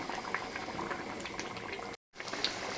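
Bengali fish curry gravy (rui posto) bubbles in a pot, a continuous soft burble of popping bubbles with one brief dropout near the end.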